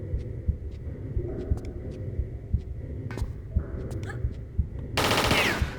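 Automatic turrets fire in Tomb Raider's high security compound, giving rapid bursts of mechanical gunfire over a rumbling game backdrop, with a louder, harsher burst near the end.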